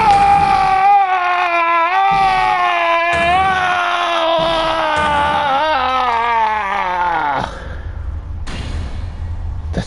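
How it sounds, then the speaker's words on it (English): A long, drawn-out scream in the Ace Attorney video game, strained and wavering with a falling pitch, loud and alone, breaking off near the end into a brief muffled thud and low rumble. "That scream. I've heard that scream before."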